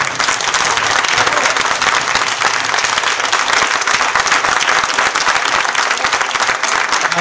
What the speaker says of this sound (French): en vous demandant de vous lever et d'applaudir fortement